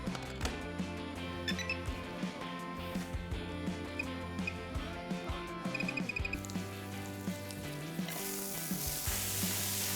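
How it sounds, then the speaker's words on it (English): Slices of lardo, guanciale lardons and onions frying in a pan on a hob, a close steady sizzle and crackle with scattered pops and light utensil clinks, growing hissier toward the end. "we're rendering the fat from the lardo and the guanciale, and the onions are cooking in it"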